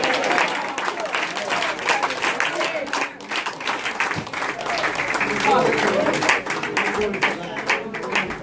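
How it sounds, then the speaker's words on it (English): A church congregation at a Sunday revival service claps and praises together, with dense, ongoing applause-like clapping mixed with raised voices and speech through the whole stretch. "Come on, give a clap, give a praise."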